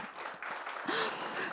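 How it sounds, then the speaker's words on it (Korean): An audience at a launch ceremony for a wearable robot testing center gives brief, quiet applause, a soft, diffuse patter of clapping with a faint breathy sound partway through. "우리 이하경 국회의원님께 박수 한번 부탁드리겠습니다"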